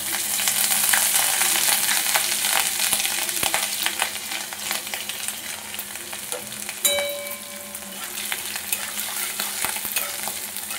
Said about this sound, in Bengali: আদাটা একটু ভাজা ভাজা হয়ে গেলে ডাল বাটাটা দিয়ে দেবো।